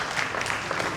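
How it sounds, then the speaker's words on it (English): Applause from a crowd at a Tai Chi teaching anniversary celebration, a soft, steady patter of clapping that sounds fairly distant and faint throughout. "So big round of applause to them."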